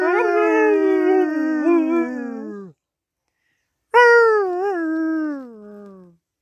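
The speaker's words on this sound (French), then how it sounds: "Ah mon chien." A dog lets out two long, wavering howls separated by a brief silence, loud and near, each sliding downward in pitch as it fades.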